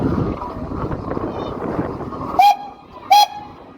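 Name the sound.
steam locomotive whistle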